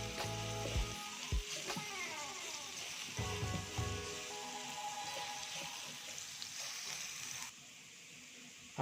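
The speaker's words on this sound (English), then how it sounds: "I fried the white onion" White onion frying in a pan, a continuous close hiss of sizzling oil with occasional stirring clatter and utensil scrapes, fairly loud and steady throughout with no talking.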